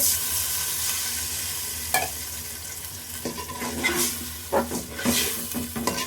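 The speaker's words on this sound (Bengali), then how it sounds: "এখন একটু পানি দিয়ে মাছটাকে কষিয়ে নেব।" Fish braises in a pan with a little added water, sizzling and hissing steadily while a utensil scrapes and stirs now and then.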